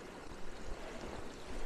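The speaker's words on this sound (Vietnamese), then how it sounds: "Bên này có một cái dòng suối." Steady broadband rush of a mountain stream flowing past a snowy village in Ladakh, a soft continuous watery hiss with no voices.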